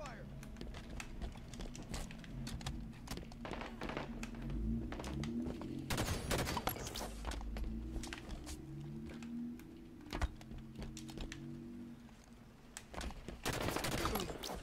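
Gunfire in a Halo 5 SWAT match: bursts of rapid weapon shots and sharp single cracks come through loud and close over game hum, with a voice talking across parts of it.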